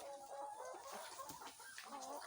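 Farm chickens, laying birds around week 23, cluck and murmur together in a steady close chorus with no one speaking, at fairly low overall volume.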